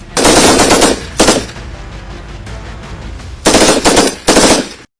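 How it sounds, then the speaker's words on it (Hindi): Indian Army soldiers fire a made-in-India MMG medium machine gun, delivering four loud, close bursts of rapid automatic fire, two longer ones and two short ones, separated by brief ringing gaps. "भारतीय सेना के जवान मेड इन इंडिया MMG से फायरिंग कर रहे हैं।"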